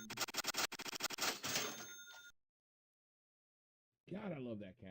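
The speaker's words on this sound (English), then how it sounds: "God, I love that cash register sound." Cash register sound effect on a trading stream, a burst of rapid mechanical clatters and a ring lasting about two seconds, loud and up front, followed by silence and then someone talking.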